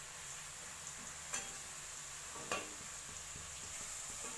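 Potatoes fry in a pan with a soft continuous sizzle, broken by a couple of sharper stirring scrapes, fairly quiet and with no voices.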